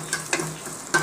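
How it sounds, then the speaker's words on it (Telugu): Cumin, mustard seeds, dried red chilli and curry leaves sizzle in hot oil for a dal tempering, with a steady crackling hiss and a few sharper pops over about a second. "పప్పు తాలింపు వేసేస్తున్నామండి. జీలకర్ర, ఆవాలు, ఎండుమిర్చి, కరివేపాకు"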